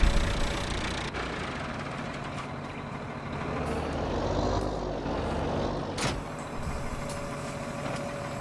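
A small tractor engine runs steadily in Farming Simulator 19 with a low idling drone, joined by a few brief mechanical clanks and a sharp knock near the end.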